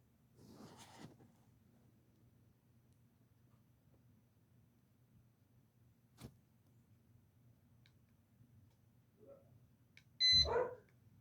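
A newly unboxed tool switched on gives a brief electronic beep amid quiet, followed by a dog's whimpers and a short loud bark near the end.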